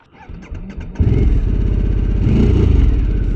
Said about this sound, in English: The bike is starting, but it is giving me some funny hanky-panky moments.